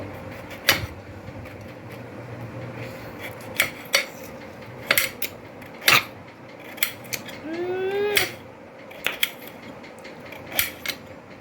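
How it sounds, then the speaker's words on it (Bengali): A knife chops amla (Indian gooseberry) into small pieces, giving sharp, irregular cutting knocks against a board with short pauses between them, plus a brief rising squeak partway through. "তো এবারে কাটছি দেখো আমলকিগুলোও ছোট ছোট পিস করে নেব"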